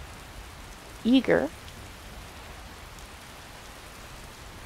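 Steady rain in the video game Skyrim patters on in a constant soft hiss, broken briefly near the start by a short spoken word.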